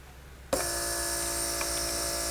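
After a brief quiet, a Mercedes central locking pump switches on abruptly and runs with a steady electric whine and hum while it builds pressure.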